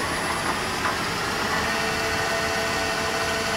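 An Atrump CNC bed milling machine, model B6FC, runs its spindle at a steady pitch, giving a continuous loud mechanical hum with a high whine over it and no breaks or talk.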